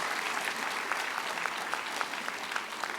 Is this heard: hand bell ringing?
no